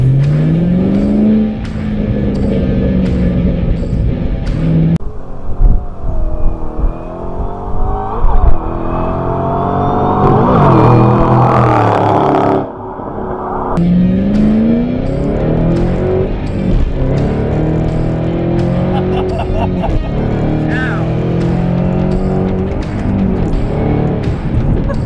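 A Ford Mustang GT500 accelerates hard, its loud, close V8 climbing in pitch through repeated rising sweeps with brief drops at gear changes, then revving and pulling again.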